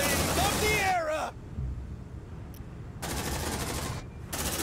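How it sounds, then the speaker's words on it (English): In the video game Aliens: Dark Descent, a sentry gun fires in two loud, rapid bursts separated by a quieter pause with game ambience, after a stretch of a distorted voice. "Deploying sentry gun."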